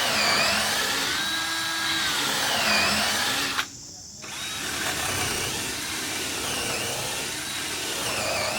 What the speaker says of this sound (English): I had to put that drill on number 2, second speed.